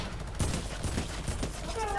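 Video game gunfire from a shotgun cracks in several quick bursts under talk and game noise, fairly loud against a busy background.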